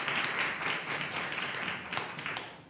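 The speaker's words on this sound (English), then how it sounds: "let's give Professor Hing a round of applause" Audience applause at an academic symposium on U.S. immigration, a dense steady wash of many hands clapping for the professor, filling the room at moderate level throughout with no talk on top.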